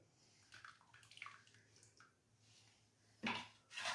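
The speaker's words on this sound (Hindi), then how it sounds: "अब इसको छाननी की मदद से छान लेंगे" Mint sharbat is strained through a kitchen sieve, giving faint, intermittent trickles and drips, with two louder liquid splashes near the end.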